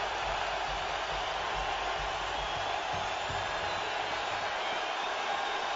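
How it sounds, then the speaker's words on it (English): The Lambeau Field crowd in Green Bay cheers during a Cowboys–Packers night game, a distant, steady roar of many voices that stays flat and unbroken throughout. "And the crowd is alive, and everybody is standing as the play clock is ticking down"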